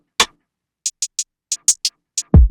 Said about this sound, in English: Kick, hi-hat, some perks, snare.